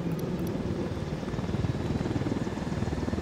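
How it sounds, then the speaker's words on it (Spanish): Helicopter in the video game Ghost Recon Wildlands, a steady, loud rotor and engine drone with a rhythmic chopping pulse running throughout, heard alone without talk. "vamos a llevarnos el helicóptero"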